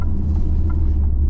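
A 2024 Dodge Hornet R/T Plus cruising on freshly paved road, giving a loud, steady low rumble of engine and tire noise with no talking.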